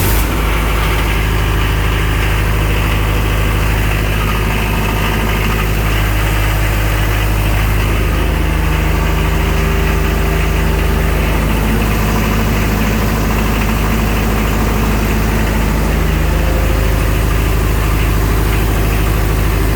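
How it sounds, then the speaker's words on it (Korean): Diesel fire pump engine in a building, just fitted with a new battery, runs steadily under manual control during a test, a loud continuous idle with low rumble and vibration and no talking. "매뉴얼 수동으로 놓고 엔진을 돌려보도록 하겠습니다."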